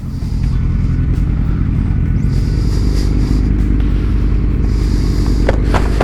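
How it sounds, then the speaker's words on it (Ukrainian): A motorcycle engine on an open road during an early-season ride hums loud and close with a steady low drone and a few light rattles and scrapes near the end; no one speaks. "ну ну типу Олег там газує, не не перебарщуй."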